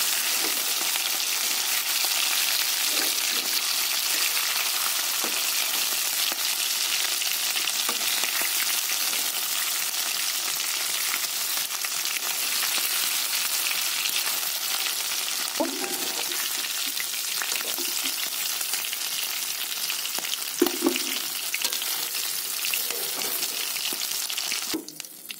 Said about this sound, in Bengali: তেল গরম হয়ে গেছে, চিকেনটা দিয়ে নেব